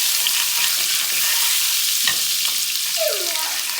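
Butter melting and sizzling in a pan with carrots, a loud continuous close-up hiss with a utensil scrape or two near the end.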